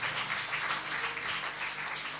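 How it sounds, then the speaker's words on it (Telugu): A church congregation at a Telugu worship service claps together in a steady, continuous wash of applause, moderately loud, with no voices on top. "ఏమ్మా చప్పట్లు కూడా ఎట్లా అంటున్నా"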